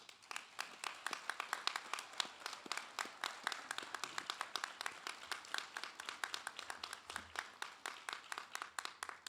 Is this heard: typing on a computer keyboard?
no